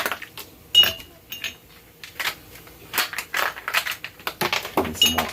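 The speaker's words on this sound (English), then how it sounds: "First, let's get some ice from the tray." Ice cubes are knocked loose from a tray and dropped into a glass, giving a run of sharp clinks and cracking rattles in uneven bursts, close and fairly loud.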